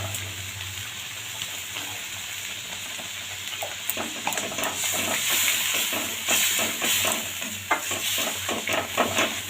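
Spice paste with turmeric sautéing in a pan, a steady close sizzle with a rising run of scraping, clinking stirring strokes in the second half and no talking.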